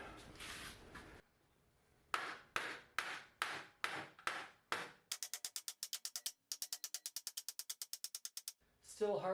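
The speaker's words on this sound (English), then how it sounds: "This will slide along the edge and I can just hit that with a hammer" Sharp hammer blows strike a blade set in a wood block to pry off the battery cover of a 2013 Tesla Model S, first a slow series of heavy knocks, then a rapid run of quicker, lighter taps, close and distinct.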